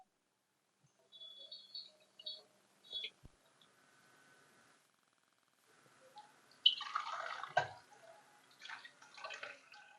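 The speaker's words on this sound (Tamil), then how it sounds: "இந்த அவளை வந்து நல்லா நான் களையிறேன்" Flattened rice (aval) being washed by hand in a bowl of water, with scattered drips and trickles at first, then a louder burst of splashing and sloshing in the second half, close and without talk.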